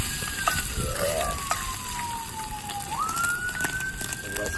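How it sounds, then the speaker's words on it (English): A distant ambulance siren wails in a long falling sweep, then rises again, steady under a constant outdoor hum near a camp stove. "Got the ambulance in the background."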